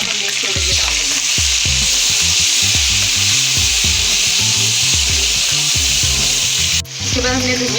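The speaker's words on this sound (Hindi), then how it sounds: "इसके साथ ही हमने ये अदरक लहसुन का पेस्ट डाल देना और हल्का सा हमने फ्राई करना है" Ginger garlic paste and tomato paste frying in a pan, a loud steady sizzle with a spoon or spatula scraping and stirring in irregular strokes throughout, a brief dip near the end.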